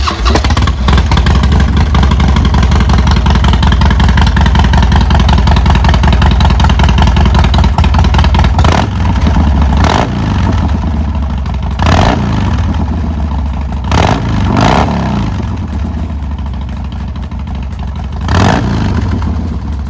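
A Harley-Davidson anniversary model motorcycle engine runs loud and close, holding a rough, steady idle and then blipping through several sharp revs toward the end.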